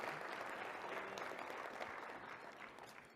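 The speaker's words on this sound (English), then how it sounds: "yeah, you could clap on that." Audience applause at a community organization event, a steady wash of clapping from a crowd, continuous and fairly full, slowly fading toward the end with no voices over it.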